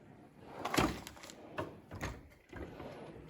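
A drawer in a small engine repair toolbox slides open, with a few close, distinct knocks and a scraping slide, then metal tools shifting inside.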